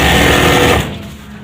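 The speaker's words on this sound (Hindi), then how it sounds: "ये मैं दूसरी सिलाई लगा रहा हूँ, आपने जो सिलाई लगाई है उसके ऊपर ही सिलाई जो है वो लगा लेनी" A sewing machine runs a second line of stitching over an earlier seam on a gents suit, a loud, close, steady whirring hum that stops after about a second.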